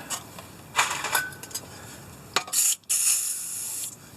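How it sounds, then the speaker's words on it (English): Aerosol can of WD-40 sprayed onto a car axle hub during a W123 Mercedes CV axle replacement, with two or three short hissing bursts, the last one longer and steady, close and fairly loud with no talking. "just hit that with some WD-40"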